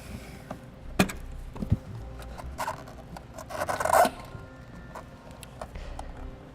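A trim panel tool pries a wiring connector off the taillight of a 2006 Scion tC, giving scattered sharp plastic clicks and brief scraping rubs, close and fairly quiet.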